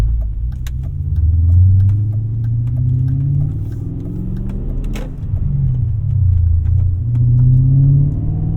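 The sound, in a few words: 2001 E39 BMW M5 engine and exhaust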